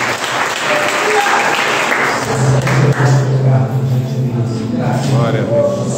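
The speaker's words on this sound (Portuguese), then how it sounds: "Você pode aplaudir ao Senhor." A church congregation at a family worship service claps steadily throughout, fairly loud and close, with a preacher's voice and other voices over the applause.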